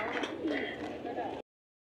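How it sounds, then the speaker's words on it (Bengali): Pigeons cooing at a Bangladeshi pigeon market, where pairs of Giribaz pigeons are on sale; soft, close coos overlap with market chatter and voices for about a second and a half before the sound cuts off. "এখানে এক জোড়া গিরিবাজ কবুতর আছে"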